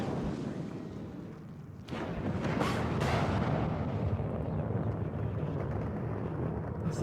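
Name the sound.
mortar fire in video game Warno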